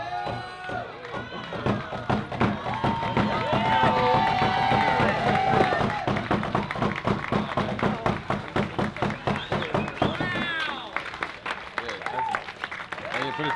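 A crowd at a skate competition cheers and applauds loudly and continuously, with rapid clapping taking over toward the end and voices mixed in.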